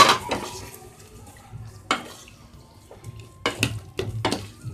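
Chopped tomatoes stirred and sautéed in a pot for whole masoor daal, with intermittent spoon scrapes and clinks against the pan over a soft sizzle, no voices.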